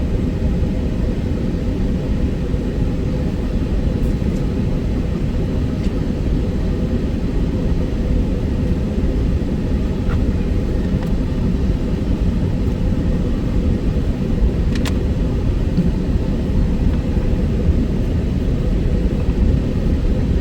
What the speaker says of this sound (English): So this is a mega train. It's basically two empty coal drags and one combined into one.